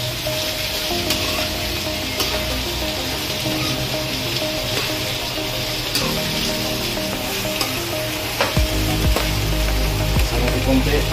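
Potatoes and carrots fry in a pan for a chicken liver and gizzard afritada, giving a steady close sizzle with frequent clanks and scrapes from stirring. A louder clatter of stirring comes near the end.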